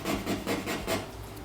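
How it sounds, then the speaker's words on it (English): A nail file scrapes back and forth across a painted surface in four quick rasping strokes, close and fairly loud. "do another scratch test with a nail file"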